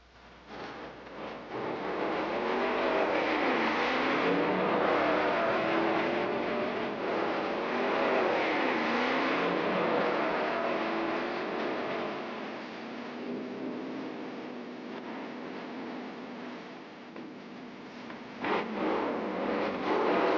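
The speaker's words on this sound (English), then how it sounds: "a gas class coupe runs a time trial with a Class A supercharged coupe" Drag racing coupes run a 1964 time trial, a gas class coupe beside a Class A supercharged coupe, their engines roaring loud and sustained as they accelerate down the strip, then fading slightly. The recording sounds old and band-limited.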